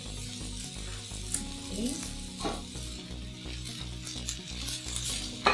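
Mushrooms frying in a pan give a steady, close sizzle with occasional stirring scrapes, while a voice briefly speaks over it.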